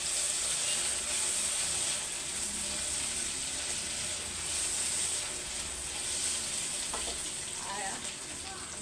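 Garlic frying in a pan for a simple ground-meat dish, making a steady, soft sizzle that runs throughout. A few faint clinks come near the end, and there is no talking.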